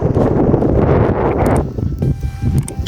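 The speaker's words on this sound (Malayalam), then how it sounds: "നല്ല കാറ്റുമാണ്." Steady wind buffets the microphone at a hilltop viewpoint, a continuous, fairly loud rushing that eases slightly after the midpoint, with no talk.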